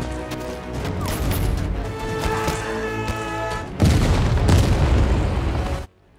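A grenade explosion booms loudly through an Indian film soundtrack, a dense roaring blast that swells suddenly and then cuts off into silence.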